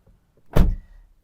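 A Toyota Altis car door opens with a single short clunk, close and fairly loud, set against an otherwise quiet background with no speech.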